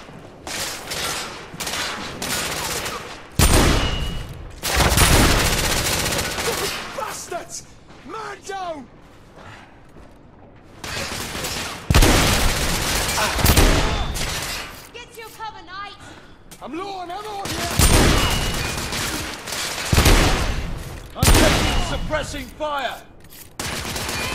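Gunfire bursts in the shooter game The Order: 1886, loud rapid volleys and automatic fire alternating with quieter lulls where voices shout over the action.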